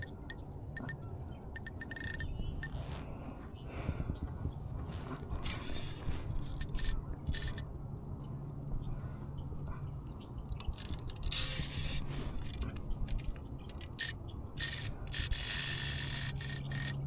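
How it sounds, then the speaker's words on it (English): On a kayak, the drag of a BFS fishing reel ticks and clicks in a rapid, continuous rattle as a salmon pulls line, fairly faint and steady with no voices. "this is probably going to be tightening the drag a little bit more"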